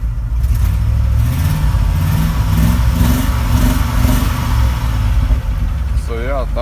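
A pickup truck fitted with a new muffler runs steadily close by with a loud, continuous engine drone. The motor holds near a constant speed, and a few brief higher tones appear near the end.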